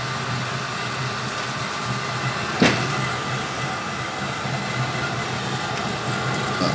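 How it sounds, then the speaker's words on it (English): A waste oil burner's fan hums and whirs continuously nearby at half speed, like a fan blowing at moderate speed, with a single sharp knock partway through. "the fan has kicked in. It was at 30, so I've set it at half speed"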